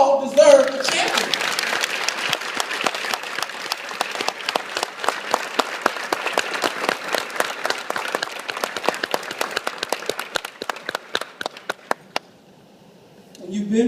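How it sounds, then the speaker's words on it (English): An audience at a talk claps steadily for several seconds, a dense burst of applause that thins out and stops abruptly near the end. "Now clap if you agree."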